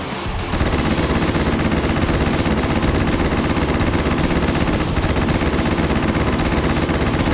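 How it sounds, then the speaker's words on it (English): Loud, relentless rapid-fire airship cannon blasts firing fireball rounds in a video game pound without pause, a dense barrage of booming shots over a constant roar. "And now we have the fireball round"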